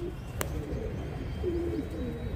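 Pigeon cooing faintly in low soft calls, with a brief sharp flap-like burst near the start, close by in a quiet outdoor setting.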